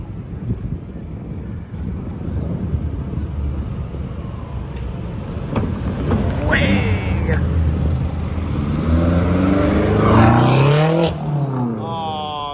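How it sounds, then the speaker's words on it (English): A car engine revs up and down on a Manhattan street, its pitch climbing and falling in surges, growing louder toward the end while people talk over it. "when they rev the engine like that"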